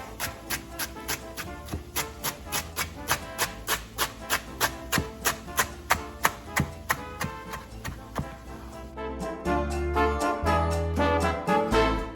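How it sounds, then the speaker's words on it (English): A knife chops rolled-up cilantro on a cutting board in a steady, even rhythm of crisp close taps, about two per second, then speeds into a denser run of quick cuts toward the end, with no talking. "And then just start chopping."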